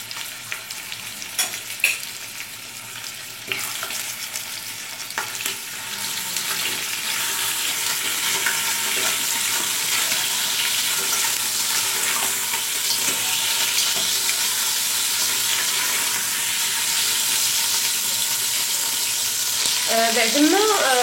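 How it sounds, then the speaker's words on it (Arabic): Lamb meat sears in hot oil in a cooking pot, giving a steady, close sizzling and frying hiss that builds after a few early clinks and continues alone throughout. "اللحم باش يتشوك لينا"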